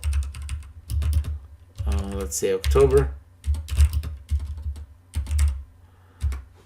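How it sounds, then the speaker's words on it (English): Quick clattering keystrokes on a computer keyboard come in short bursts between a man's spoken phrases, close and clear. "My typing is not the best today"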